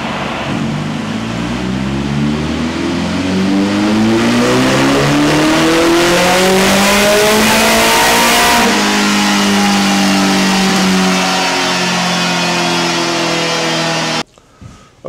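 A supercharged Suzuki GSX1400 motorcycle engine revs loud and close, pitch climbing steadily under sustained throttle, easing slightly, then holding high before cutting off abruptly near the end.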